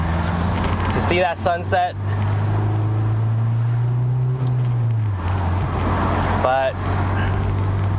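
Low steady engine and road drone inside a car creeping through a traffic jam, with a hum that rises slightly then settles, while people talk over it.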